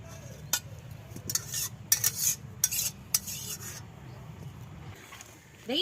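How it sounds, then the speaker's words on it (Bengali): Finished Bengali-style puti fish curry is scraped out of a metal pan, with a spoon clinking and rasping against the pan in short bursts close by over a low background rumble. "আমার তরকারি রেডি এবার আমি ঢেলে নিচ্ছি"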